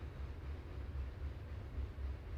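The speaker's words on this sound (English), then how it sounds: "Just like the train, that you might hear that bit of a rumble in the background." A distant train gives off a low, steady rumble in the background, faint and continuous with no other sounds over it.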